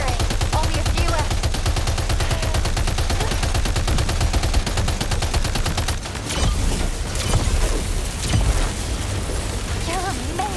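Sustained rapid gunfire from the video game Death Stranding 2 crackles in dense, continuous bursts, loud and close, with a brief lull near the middle before firing resumes; a voice may speak faintly underneath.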